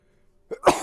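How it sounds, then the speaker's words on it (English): A single sneeze bursts out after near silence, a quick sharp intake followed by a loud explosive blast, close to the microphone. "Now I'm sneezing."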